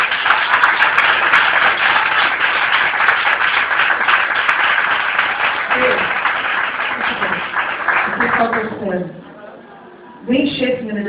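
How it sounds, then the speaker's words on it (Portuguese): A church congregation claps hands together in loud, dense, sustained applause that fades out near the end before voices resume, with speech mixed in throughout. "As palmas para o vitória"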